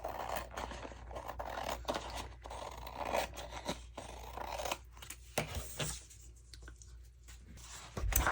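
Scissors snipping through scrapbook paper, a close, quiet series of crisp cuts and scraping rustles in an uneven rhythm, with no speech.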